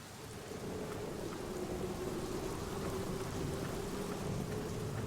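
Steady rain and a low thunder rumble from The Black Mirror video game, set at a gloomy cemetery beside a chapel, fill the scene as a continuous, even storm wash with no voices.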